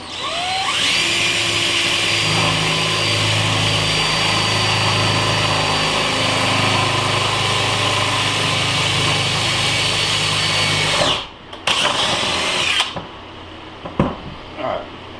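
A power drill bores a hole into a plywood work table, a loud steady whine running without a break for about eleven seconds before cutting off, followed by a few short bursts and clatter.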